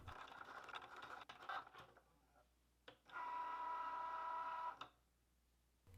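A Cricut Joy machine cuts an image into card stock, giving a steady, close mechanical whir with intermittent ticks and a sustained motor hum in the latter half.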